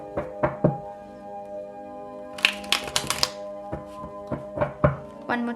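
Tarot cards shuffled by hand, giving sharp knocking taps followed by a quick flurry of riffling and further taps, close and moderately loud with no talk.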